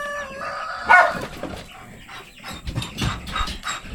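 Brahma chickens and a rooster in a farm coop, with one loud, sharp call near the start standing out over scattered clucks and low barnyard rustling.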